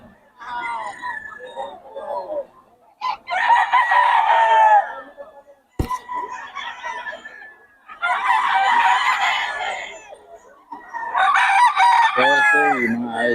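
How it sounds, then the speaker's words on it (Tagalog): Several roosters crow loudly at a market in Bocaue, in long, drawn-out calls, one after another, with clucking and brief chatter between them. "Maganda ng mga manok ng Boss Batang"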